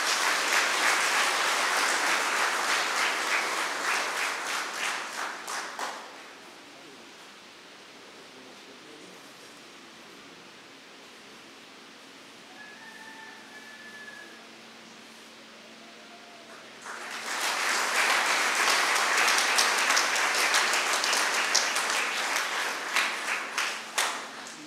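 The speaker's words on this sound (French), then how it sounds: "Sous vos applaudissements, s'il vous plaît." Audience applause at a church award ceremony, a dense burst of clapping that fades to near quiet and then returns as a second strong round, with no talk over it.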